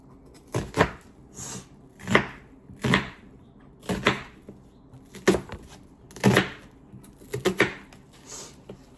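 A knife chops onions on a cutting board, about a dozen close, distinct thuds in an uneven rhythm, some landing in quick pairs.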